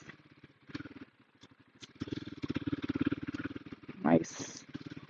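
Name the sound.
Royal Enfield Himalayan 450 motorcycle riding offroad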